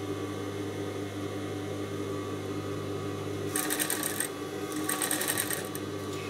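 A sewing machine hums idly, then stitches the hem of a silk blouse in two fast rattling bursts of a second or so each, close and clear with no talk.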